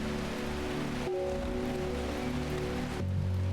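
Rain falls in the video game Strange Horticulture as a constant wash of hiss, mixed with low tonal ambient music whose pitch shifts a couple of times, with no one speaking.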